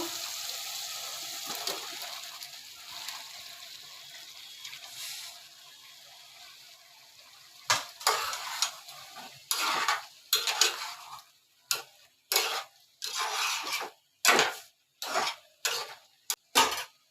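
Taro corms go into a pot of braised prawns during cooking. A quiet sizzle comes first, then a run of sharp, evenly spaced clinks and scrapes as utensils strike the pot, loud and close.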